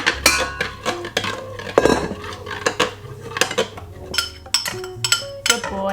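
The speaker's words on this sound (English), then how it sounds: "Stir, stir. Well done, great stirring." A spoon scrapes and clinks steadily against a bowl as food is stirred, a near, busy run of metallic taps and knocks at an uneven rhythm.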